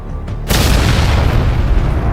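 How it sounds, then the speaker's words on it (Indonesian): A single huge explosion from a lightning-ball blast shaking a rocky valley bursts in suddenly after a brief quiet moment, then roars on as a loud, dense rumble filling the rest of the clip, with no voices. "Ledakan dahsyat mengguncang lembah, menggetarkan bebatuan, hingga serpihannya berterbangan."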